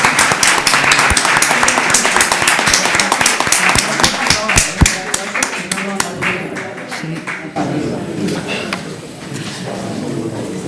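Loud, close applause from an audience at a medical ethics talk, crisp individual claps over a crowd that thins out and stops partway through, followed by quieter room sound and faint murmuring.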